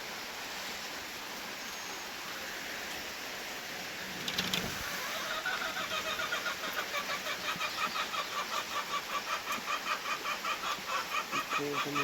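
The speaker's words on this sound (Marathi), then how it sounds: "पाऊस पाण्यामुळे कोंबड्या सुद्धा शेडमध्ये बसलेल्या" Chickens clucking in a shed during rain, a steady wash of rain noise throughout, with rhythmic, repeated clucks rising in the second half, close and moderately loud, with no talking.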